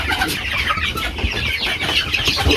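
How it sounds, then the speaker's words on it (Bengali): Farm-raised broiler chickens about a month and a half old cluck and chatter together in a dense, continuous flock, close and fairly loud, with no talking. "তো আমাদের এটাগুলো হচ্ছে ফার্মি মুরগি।"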